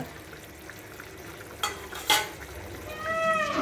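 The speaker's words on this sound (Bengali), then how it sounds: "এবার এখন এখানে কাঁচা কলা রান্না করতেছি" Raw banana cooks in a pan with a low steady sizzle, broken by a couple of brief utensil scrapes and clanks near the middle.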